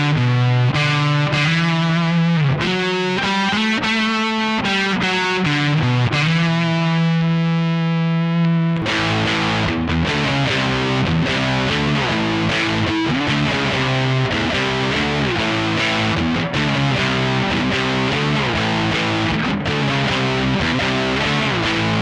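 A distorted electric guitar through fuzz and distortion pedals and a UniCab cab-simulator pedal chugs heavy riffs, loud and close, shifting from sustained chords into fast driving chugging, with no talking.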